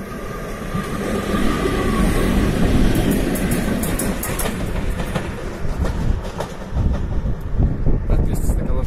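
A VL80 electric locomotive rolls past close by, a loud continuous rumble with rhythmic clickety-clack of wheels over rail joints and some wind buffeting, with no talk.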